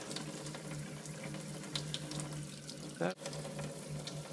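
Tap water runs steadily into a sink over a leather motorcycle glove coated with Rust-Oleum Neverwet, a soft continuous splash with a brief louder gush near the end.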